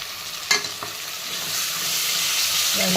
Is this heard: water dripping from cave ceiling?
no